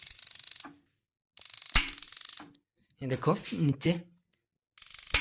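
A lithium-battery-powered gas geyser igniter sends out bursts of rapid, fine clicking and ticking from its relay and spark, in three separate runs, with someone talking in a gap between them.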